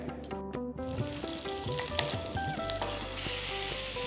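Chillies frying in hot oil in a pan for hotel-style neer chutney, giving a steady close sizzle with faint stirring scrapes and no voices.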